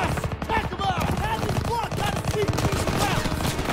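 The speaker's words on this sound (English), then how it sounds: "You're shooting like crazy." Gunfire in the video game Call of Duty WWII, a Second World War campaign, comes as rapid, fairly close bursts of shots under shouting and other battle noise.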